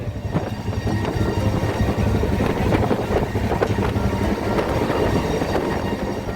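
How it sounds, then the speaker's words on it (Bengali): Inside a coach of the 12369 Kumbh Express from Howrah running at high speed, a dense, continuous rumble and rattle of wheels on track fills the space at steady loudness. "ট্রেন কিন্তু বিশাল জোরে ছুটছে"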